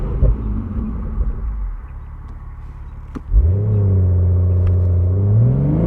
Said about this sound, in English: See if we can do a quick launch control here.